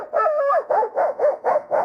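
An AI-generated dog barks in a quick run of six or seven sharp, close yips and woofs, loud and clear with no talking.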